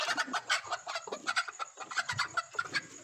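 Several hens cluck close by in a steady, overlapping chatter while they are being caught and put into a coop, with no talking.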